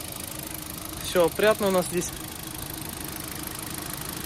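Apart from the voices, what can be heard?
Hyundai Solaris car engine idling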